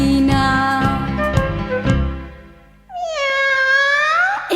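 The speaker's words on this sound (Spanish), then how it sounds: "Escuchemos la gata de Doña Emelina, que está maullando en la cocina." Nearby, a cat in a kitchen gives a few short meows and then one long, wavering meow. The calls are loud and distinct, and nobody speaks.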